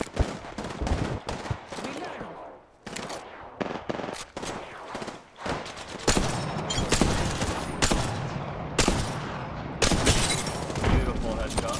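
Gunfire in Apex Legends comes as rapid automatic bursts and single sharp shots, loud and close, clustered in volleys across the whole stretch, with a player talking between them.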